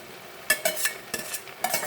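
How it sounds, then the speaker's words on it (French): Courgettes and peppers tumble into a hot pan of cooked pork and aubergine for ratatouille, giving a few quick scraping clatters over a steady soft sizzle, close and without speech. "Maintenant, il faut mettre les courgettes et les poivrons."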